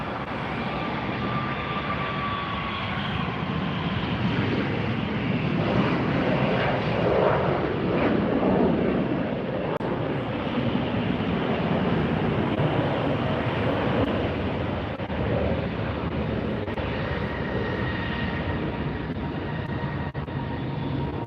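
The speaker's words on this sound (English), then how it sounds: "Alaska jet heading out as well" An Alaska Airlines jet takes off at LAX, a loud, sustained broadband engine roar that swells and holds steady with no voices.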